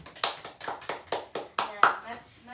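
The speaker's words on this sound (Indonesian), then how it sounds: "beri tepuk tangan untuk dia." Applause from a class after a science lesson on the digestive system, with about seven separate bursts of clapping that each decay quickly, fairly faint and mixed with voices.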